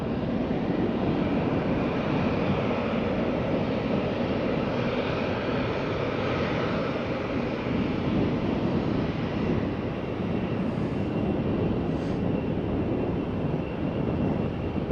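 A Condor Airbus A321 in Green Island livery at Faro Airport, its engines giving a steady, loud broadband roar with wind buffeting the microphone throughout and no voices.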